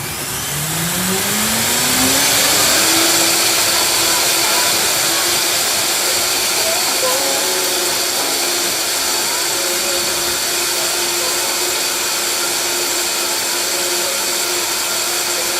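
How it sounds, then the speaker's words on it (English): A blender motor making a shake winds up and roars loudly and steadily, its pitch rising at the start then holding as it churns continuously. "I'm going to be blending this."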